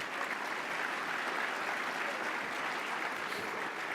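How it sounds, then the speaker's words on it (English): Sustained applause from a large crowd, steady and dense clapping throughout with no pauses. "Another round of applause for the Port of Long Beach"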